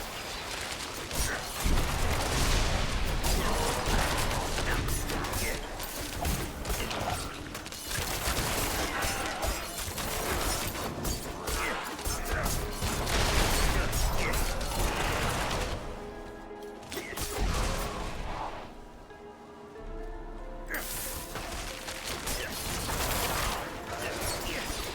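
Big area-of-effect blasts in Diablo IV pile up in rapid crackling, shattering bursts for long stretches, easing into quieter tonal game sounds midway before the chaos resumes, with a voice talking at times.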